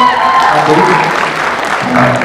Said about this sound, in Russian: также похлопаем